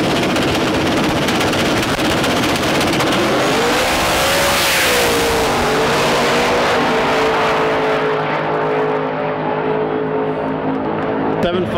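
Drag cars launching down a strip at a TX2K21 race event, a loud, continuous roar of engines rising in pitch as they accelerate, with crowd and wind noise mixed in throughout.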